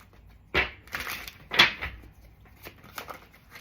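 Playing cards being shuffled indoors, with two sharp riffling bursts followed by softer shuffling and tapping, fairly close and with no talking.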